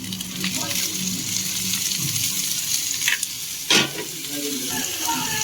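Cooked drumstick leaves and dal stirred into onions frying in a pan, giving a steady close sizzle with scraping and stirring clatter throughout.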